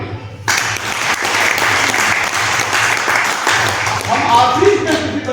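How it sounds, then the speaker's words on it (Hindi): Audience applause at a birthday celebration talk breaks out after a short quiet start, a dense, steady wash of many hands clapping that holds loud for about five seconds, with a low hum running underneath. "उनके लिए ताली बजाइए।"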